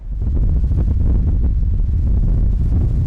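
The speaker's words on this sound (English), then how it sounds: "Wind gusts of more than 80 miles an hour have battered parts of the country" Loud, constant low rumble of strong wind, gusts over 80 miles an hour during a storm, buffeting the microphone, with gusty surges throughout and no voices.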